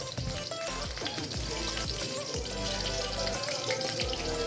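Steady sizzling and crackling of garlic frying in hot oil, close and continuous, with faint clinks of a utensil.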